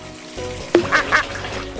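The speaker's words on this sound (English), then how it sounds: "Is it the rubber ducks?" A rubber duck squeaks several times in quick succession, short honking quacks over a quiet background.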